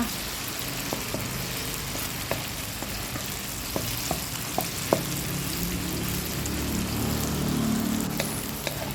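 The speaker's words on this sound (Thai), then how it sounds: "ต่อไปทอดเต้าหู้ต่อเลยค่ะ เต้าหู้ทอดพอเหลืองๆก็พอนะคะ" Tofu deep-frying in oil gives a continuous crackling sizzle with scattered sharp pops, at moderate loudness and with no talk.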